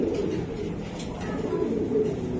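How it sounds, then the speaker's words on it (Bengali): A young male racing pigeon hatched in 2023 gives soft, low, rolling coos close by against a quiet background. "মাত্র 2023 এর একটা নর কবুতর"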